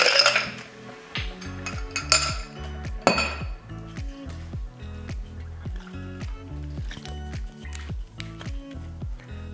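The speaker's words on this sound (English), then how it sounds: "We're gonna start with ice." Ice cubes dropped into a glass while mixing a Red Bull cocktail with vodka and peach schnapps, a loud clatter and clinks at first, then many smaller rattling clinks as the cubes settle and shift, close up.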